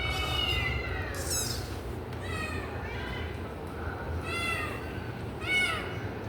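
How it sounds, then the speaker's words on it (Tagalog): Several small kittens meowing in high, rising cries, repeated every second or so, close by, over a steady low rumble of background noise, with a person talking softly nearby. "At ang kasama niya maliliit na pusa."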